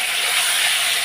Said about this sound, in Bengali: এই আলুগুলো একটু ভেজে নেব। আলুগুলো একটু লাল লাল করে ভেজে নিই।